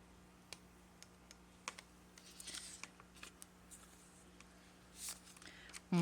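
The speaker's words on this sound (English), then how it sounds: "I have a little spot here I do need to cut out with my craft knife." A craft knife cuts a small spot out of a paper fish collage piece, making soft, scattered scratches and clicks close by against a quiet background, with a louder knock at the very end.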